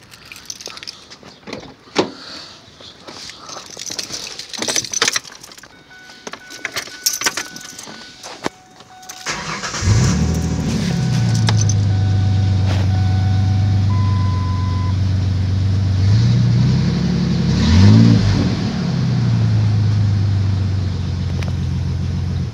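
Scattered clinks and rustles, then a 2005 Ford Ranger 3.0 pickup engine, with fresh spark plugs and wires, cranks and catches into a steady idle, with two brief revs rising and falling near the end.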